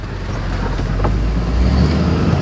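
A Duramax-powered H1 Hummer drives over farm land in low gear, with a loud, continuous engine rumble and drivetrain drone that rises slightly toward the end.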